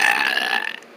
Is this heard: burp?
yes